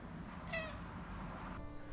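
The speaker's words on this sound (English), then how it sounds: "Hey cat." A house cat meows twice, a brief clear meow followed by a second softer, lower one, close by in a quiet room.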